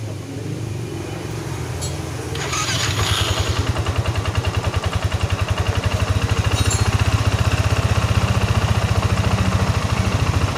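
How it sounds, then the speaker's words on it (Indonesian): A Yamaha NMAX scooter engine, fitted with a reinstalled sensor, starts with a brief clatter and settles into a steady, close, loud idle with a rapid even pulse that rises slightly as it runs. "ini motor udah saya nyalain."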